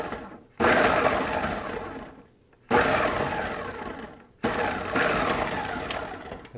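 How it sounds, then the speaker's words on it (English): Ninja blender pulsing to chop a whole onion, three loud whirring bursts of motor and blades, each a couple of seconds long and separated by brief pauses, close up. "This Ninja blender has been a lifesaver when it comes to time-consuming stuff."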